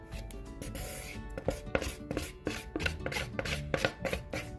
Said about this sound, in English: So scrape your bowl.